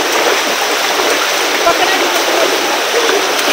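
River water rushes loudly after heavy rain, a dense, steady roar of flowing water that masks most other detail, with a voice talking faintly beneath it.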